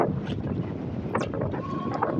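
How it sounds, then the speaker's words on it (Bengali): Wind buffets steadily over the choppy Shitalakshya river just before rain, a low roaring rush with brief gusts and a faint boat-like drone. "এই বৃষ্টি নামার আগ মুহূর্তে এই শীতলক্ষা নদী কেমন উত্তাল হয়ে গেছে"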